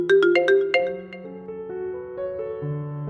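A mobile phone notification tone for an incoming OTP text message: a bright, clear melodic chime of quick repeated notes followed by a few sustained descending tones, heard alone with no talking.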